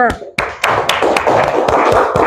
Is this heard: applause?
yes